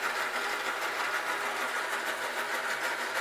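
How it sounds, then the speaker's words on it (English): A small electric motor in a Y&L toy train ice cream stand accessory, a continuous buzzing whirr with a fast, even flutter, steady and close. "What you're hearing is my Y&L ice cream stand"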